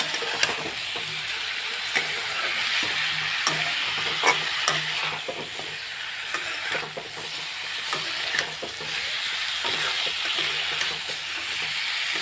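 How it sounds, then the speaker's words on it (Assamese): Chicken curry with turmeric being stirred in a hot pan, a steady sizzle of frying with scraping spoon strokes against the pan in an irregular rhythm, close and fairly loud, with no talking. "এনেকৈ অকণমান লৰাই দিছোঁ।"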